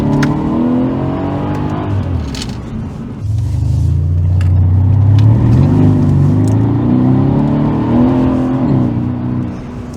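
A Mercedes C63 AMG W205 downshifts and accelerates: a brief dip in the engine note, then a loud, deep rising roar with firm gear changes, heard from inside the car with no talking.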